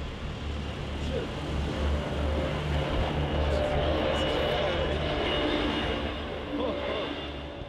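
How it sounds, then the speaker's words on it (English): A snowplow truck approaches along a snowy mountain road near Big Bear, a steady broadband engine and road rumble that holds fairly loud throughout as it draws nearer, with people talking over it. "Look at it coming. There's a snowplow."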